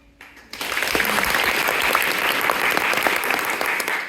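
Audience applause erupts suddenly after a brief quiet moment, then continues as dense, steady clapping from a large crowd for several seconds.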